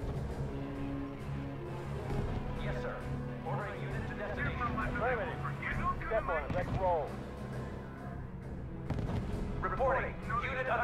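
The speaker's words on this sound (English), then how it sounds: "Unit reports heavy fire." Artillery booms and gunfire rumble through a World War II battle in the strategy game R.U.S.E., a continuous heavy barrage heard under game voices and sound effects.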